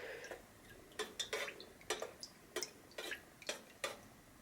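A melted wax mixture is stirred in a pot, and a utensil knocks lightly against the metal in a run of about ten quiet, crisp clinks with short gaps between them.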